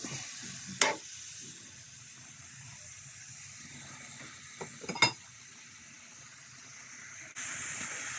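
Chicken dish frying in a pan while being stirred, a faint steady sizzle with a few sharp clinks of the utensil against the pan.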